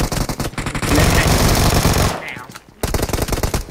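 Rapid bursts of automatic gunfire from a shooting video game battle in a haunted castle map, loud and dense, briefly dropping off near the end before the shots resume.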